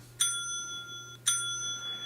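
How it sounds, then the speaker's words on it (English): Two bright bell dings about a second apart, each ringing out and fading, over a low steady hum. "I'm going to give them a point with this bell sound."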